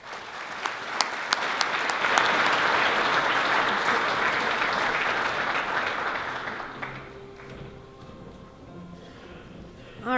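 A large audience at a university athletics awards night applauds the award winners, a dense sustained wash of clapping with a few sharp claps early on, swelling then gradually thinning out near the end.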